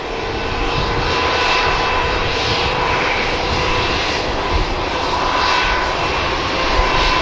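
Jet airliner engines at Manchester Airport, a loud continuous roar with a steady whine, close and sustained throughout without speech.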